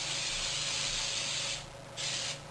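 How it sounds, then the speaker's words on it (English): Canola oil non-stick cooking spray hisses onto a muffin pan in a long, steady burst, then a brief pause and a second shorter spray, close and fairly loud. "we're just going to give it a quick spray with a non-stick cooking spray"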